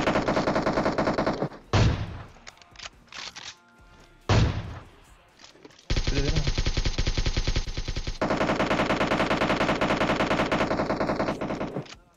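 Gunfire in the PUBG Mobile video game: long bursts of rapid automatic fire, loud and close, broken by short pauses and a few louder single shots, with nobody talking.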